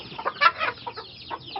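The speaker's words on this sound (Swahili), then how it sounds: "Hii jogoo hii ni kienyeji piwa" Free-range indigenous rooster and hens on a Kajiado County poultry farm in Kenya, giving a short burst of close clucking calls with a couple of louder squawks, no talk.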